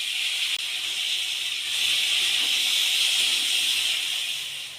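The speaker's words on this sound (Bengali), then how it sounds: "এবার ওই তেলের মধ্যে কেটে রাখা পটলগুলো ভেজে নেব।" Cut pointed gourd pieces fry in hot oil with a steady, loud, bright sizzle that holds throughout and swells slightly midway.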